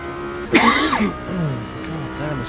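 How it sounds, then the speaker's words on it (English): A single harsh cough bursts out close to the microphone, followed by a lower throaty rasp and a fainter second clearing of the throat, with a sim racing car's engine hum underneath. "God damn this cough."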